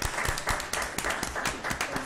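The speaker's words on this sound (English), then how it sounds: "Let's give her a round of applause." Audience applause at a public school board of trustees meeting, a steady dense patter of many hands clapping together at moderate loudness for about two seconds, with no talk over it.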